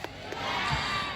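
A crowd applauds and cheers for the organizers at a village religious talk given by a scout preacher in Rantau Pulung, a dense, steady wash of clapping and shouts lasting about a second.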